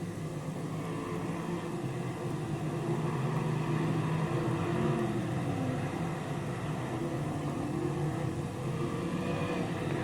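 Dirt modified race cars circle a speedway in a steady, distant engine drone, the roar rising and falling slightly as cars pass on the track.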